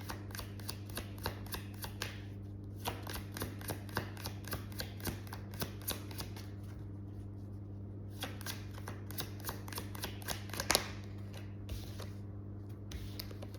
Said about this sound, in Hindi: 3 कार्ड्स लेंगे हम